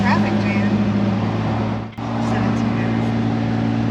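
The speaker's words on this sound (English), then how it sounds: "Now we're in a pretty long traffic jam." A 1971 Datsun 240Z idles and creeps through a long traffic jam, its engine a steady low drone heard from inside the car, with a brief dip midway and a person talking over it.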